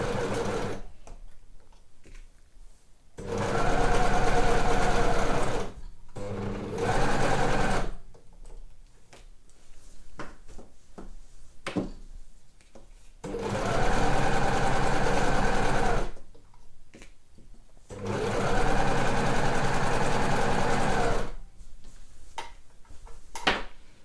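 A sewing machine stitches a sweatshirt's underarm and side seam in several steady bursts of rapid stitching, close and loud, with quieter pauses between runs.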